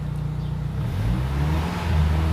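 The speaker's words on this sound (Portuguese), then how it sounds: "Acelerei o carro, vou mostrar lá na caixa pra vocês" A VW Gol G2 car engine revving at idle and rising, a steady low droning hum with harmonic tones that climb in pitch toward the end, heard close with no talking.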